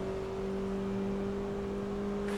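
Sim racing car engine in a manual-gearbox session on an Asetek Initium setup, held at a steady, loud drone with a constant hum throughout and no talk.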